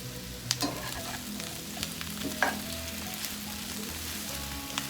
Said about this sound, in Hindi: और सब्जियों को फ्राई करेंगे। तीन 4 मिनट फ्राई करना है।